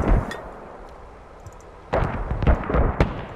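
A heavy mortar barrage pounds down in the military shooter Squad: one booming blast, a pause, then a dense cluster of rapid, loud explosions overlapping one another.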